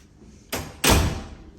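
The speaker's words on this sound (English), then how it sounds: "Wave your key in front of the door and you'll be able to get in." Hotel suite door being opened after a key card unlock, heard as a soft thump followed by a louder latch clunk and a short rushing swing, close by in a quiet hallway.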